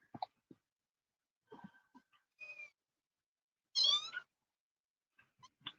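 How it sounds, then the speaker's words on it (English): A cat meows a few times close by, with a longer, louder meow near the end amid soft rustling and brief handling noises. "Looks like a kitty cat."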